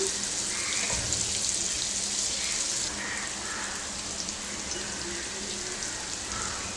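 Paneer masala bites frying in a pan as a quick snack, a steady soft sizzle and crackle running throughout, slightly louder for the first three seconds, with no talk.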